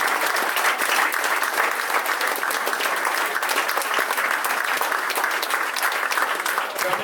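Steady, dense applause from a large crowd, sustained and even in loudness throughout with no speech over it.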